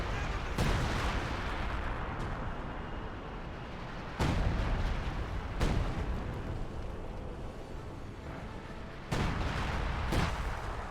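Heavy artillery barrage from ZiS guns in the video game Company of Heroes 2: a continuous rumbling battle din with three or four loud booming impacts spaced a few seconds apart.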